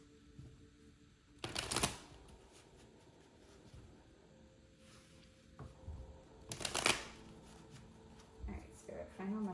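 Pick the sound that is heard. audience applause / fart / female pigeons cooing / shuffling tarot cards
shuffling tarot cards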